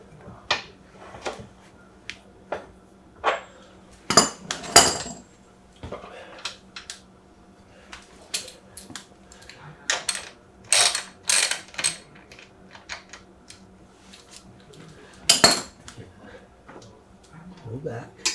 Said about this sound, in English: So I'll loosen the axle nut again.